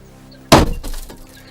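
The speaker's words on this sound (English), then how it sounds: "Strike the window in the middle, in one corner." A hammer strikes a train window once, and the glass shatters in a sharp loud crash, followed by a short scatter of falling fragments, close and alone.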